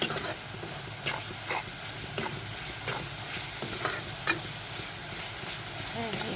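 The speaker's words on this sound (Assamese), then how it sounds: "অকণ মছলাখিনি ভাজি দিছোঁ।" Spices sizzle in a hot pan while cooking a fish curry, a steady fry hiss broken by regular scraping strokes of a stirring spoon close by.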